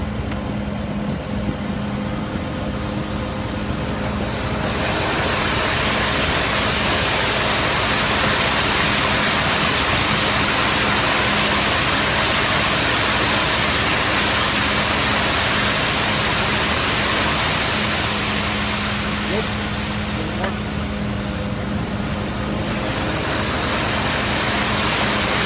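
Fluid pours into a truck as a steady, loud rushing wash that runs unbroken for most of the stretch, starting and stopping abruptly, with no talk.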